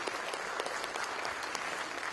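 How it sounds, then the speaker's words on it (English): Sustained applause from an audience at a literary festival writers' talk, dense steady clapping filling the whole stretch at moderate level with no voices on top. "Yes, a good round of applause for..."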